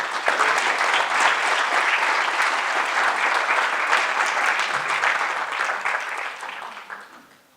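An audience at an arts lecture on Thomas Hart Benton applauds to welcome the speaker, Dr. Henry Adams, with dense, steady clapping that holds for several seconds before tapering off.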